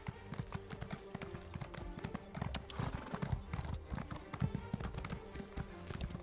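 Steady, rhythmic horse hooves clip-clopping at a trot in the video game Elder Scrolls Online, continuous and fairly close, with a faint whinny and game sounds in the background.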